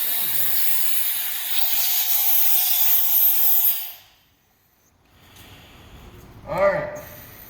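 A loud, broad hiss of compressed air rushing out for several seconds as a firefighter's air bottle is opened, cutting off abruptly, followed by quieter rustling and a brief voice-like sound.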